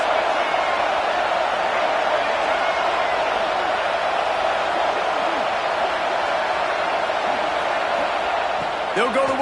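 A massive stadium crowd in a college football video game, Texas A&M hosting Ball State, roars as a continuous dense wash of noise with a brief whistle-like sound near the end.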